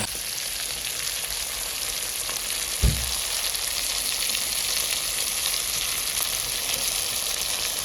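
Chicken pieces sizzle steadily in a pan with red spice paste, a continuous close frying hiss with one brief thud near the middle, no voices.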